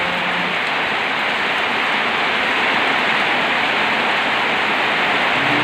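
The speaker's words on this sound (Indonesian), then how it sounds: "Hujan lebat disertai angin kencang" Heavy rain with strong wind in a village, a dense, loud, continuous roar of downpour that stays steady and unbroken throughout.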